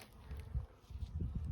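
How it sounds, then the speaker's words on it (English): Bees buzz faintly around the entrance of an outdoor nuc hive, with soft low droning and some rustling and handling noise nearby. "There's just been bees just pouring in and then pouring out, and then swarming around the front."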